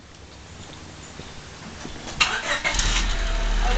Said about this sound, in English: Start it up. Let's hear what it sounds like.